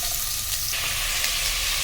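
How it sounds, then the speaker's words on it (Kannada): Mixed vegetables hit hot oil for masala khichdi, giving a loud, continuous hissing sizzle that stays even and close throughout, with no talking. "ಒಂದೇ ಸಲ ಹಾಕ್ಕೊಂಡು ಸ್ವಲ್ಪ ಮಿಕ್ಸ್ ಮಾಡಿ ಫ್ರೈ ಮಾಡಿಬಿಡ್ತೀನಿ"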